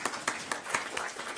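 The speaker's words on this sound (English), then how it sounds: "Y'all can clap for that." Scattered clapping from a small audience at a school district board meeting, a handful of uneven, separated claps, fairly quiet and thin rather than a full ovation.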